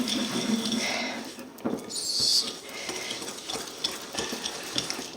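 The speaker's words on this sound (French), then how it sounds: "Et on va remuer." Tiramisu mixture with speculoos being stirred in a bowl, giving close, wet, irregular scraping and sloshing sounds with small clinks.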